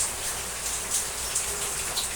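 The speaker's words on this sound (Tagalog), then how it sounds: "Ngayon naman po bigla na namang lakas ang ulan." Heavy rain pours steadily outdoors, a dense continuous hiss with scattered louder drop impacts on surfaces, no talking.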